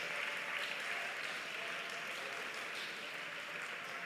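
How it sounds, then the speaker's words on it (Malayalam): A church congregation claps steadily in worship, a dense continuous patter of many hands that sounds distant and faint, with no break across the stretch. "ഒന്ന് കൈയടിച്ച് ശക്തിയോടെ ദൈവത്തെ ആരാധിച്ചേ."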